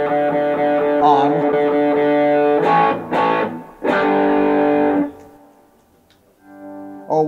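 Electric guitar through an overdrive pedal, with overdriven, distorted tone, plays sustained chords and a few choppy strums, then fades to a quieter held note near the end.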